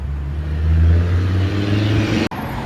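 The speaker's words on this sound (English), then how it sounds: "apologies for the noise, but it nearly is rush hour, so the traffic's all dashing past." A car roars past close by on a road at rush hour, its engine rumble swelling and then fading, with steady road noise continuing afterward.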